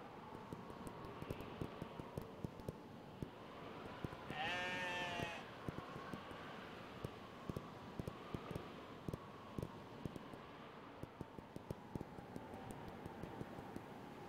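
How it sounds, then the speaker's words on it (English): Single sheep bleat from the Knytt Stories video game, a short wavering cry in the middle, faint over a steady wind-like ambient bed with regular ticking clicks throughout. "A lot of sheep, though. It's gonna make noise."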